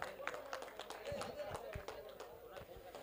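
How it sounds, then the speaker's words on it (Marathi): Scattered hand claps from a gathered audience honour a guest at a prize ceremony for a competition, irregular and moderately close, with a voice talking over them throughout. "त्यांच्यासाठी टाळ्या उजावू देत"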